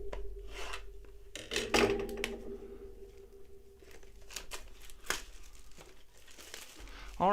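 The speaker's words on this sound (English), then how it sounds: "guess I'm going old school with little scissors tonight." Small scissors cut open a football trading card blaster box, giving close crinkling, rubbing and scraping of card and packaging with scattered sharp snips and rustles, and a voice at the very end.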